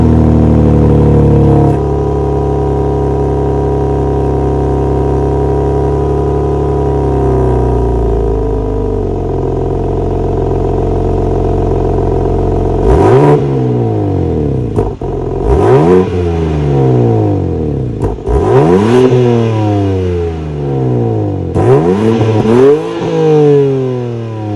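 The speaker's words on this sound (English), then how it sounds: "that was of course the sound of the 3-liter twin scroll turbo sold by BMW for this 2022 M4" A 2022 BMW M4 with its 3-liter twin-scroll turbo engine idles loudly up close, then is revved hard several times in rising, falling sweeps, with no talking.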